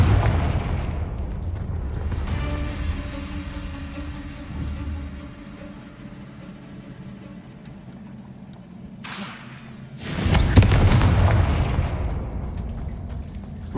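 A Confringo fire spell in Hogwarts Legacy bursts with a sudden loud explosive whoosh and rumbling boom, following a quieter stretch of low ambient rumble.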